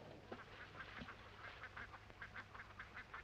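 Ducks quack repeatedly in a loose, uneven rhythm, several calls overlapping at a moderate distance, fairly faint with no talk.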